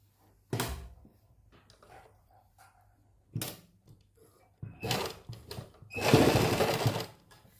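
A sewing machine stitches cotton lace onto fabric in short, loud whirring bursts separated by quiet pauses, with a longer run near the end.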